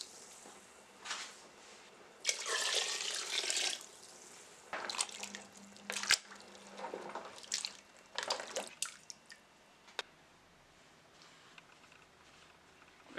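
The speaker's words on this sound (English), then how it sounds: "Add as much water as you wish." Tap water runs into a cow heel soup pot with dasheen in short, intermittent bursts that splash and trickle close by, separated by quiet pauses.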